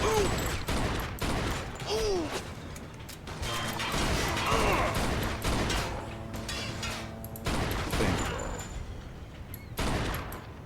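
Gunshots in the video game Mafia 2, Jimmy's Vendetta add-on, going off in repeated bursts and single cracks across the whole stretch, loud and close, mixed with mechanical clicks and game effects.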